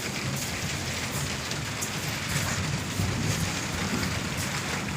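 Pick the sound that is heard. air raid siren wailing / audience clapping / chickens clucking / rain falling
rain falling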